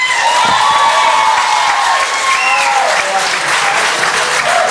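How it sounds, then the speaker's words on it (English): Loud, sustained applause and some cheering from the audience at a mayoral debate held in a school, with many hands clapping close by for the whole stretch. "Can we ask people to hold their applause down"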